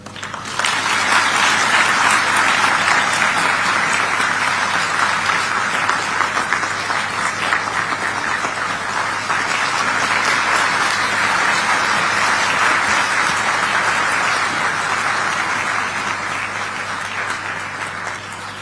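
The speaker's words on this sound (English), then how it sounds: "Ladies and gentlemen, let's continue to applaud." Sustained applause from a large audience after a speech at a political gathering in Addis Ababa, a dense, even roar of clapping that holds steady and fades slightly near the end.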